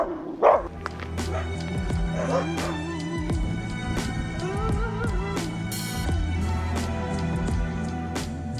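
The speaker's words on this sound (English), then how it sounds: "Dogs!" Dogs bark, yip and whimper at close range in short bursts over a steady background, with brief human voices mixed in.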